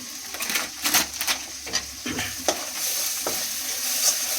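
Masala frying in separated oil in a pan with kasuri methi being added, a close steady sizzle broken by repeated scraping stirs of a spatula, no voices.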